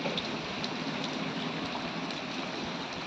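Heavy rain pours down in a dense, steady hiss with no pauses, a constant wash of sound and no voices.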